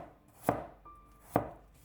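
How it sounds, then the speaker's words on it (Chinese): Peeled garlic cloves being sliced with a knife on a cutting board: two crisp, close chops spaced about a second apart, with quiet between them. "几瓣去皮的大蒜切成蒜片"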